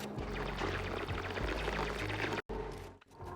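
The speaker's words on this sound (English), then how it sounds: "Dumping some liquid water in here." Liquid water pours in a video game set on a frosty planet, a continuous gushing splash that cuts out briefly near the end, with no speech.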